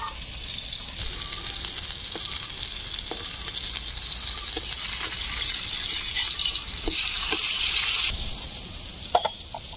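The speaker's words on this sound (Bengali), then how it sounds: "ওদিকে মাছ ভাজা হচ্ছে" Fish fries in a pan with a steady, close hiss of sizzling oil that builds slightly, then drops away near the end, with a few scattered clinks and no talking.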